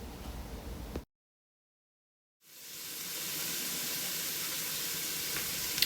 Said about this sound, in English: I chose to brown the sausage with some chopped onion in a stock pot first.